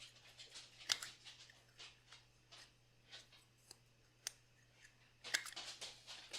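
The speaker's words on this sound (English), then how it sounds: "I'm just going to put it in my little paper rounder" A small paper corner rounder punch rounds the corners of a craft card: a series of crisp, close clicks and snips, a few sharper punches standing out, with no talking.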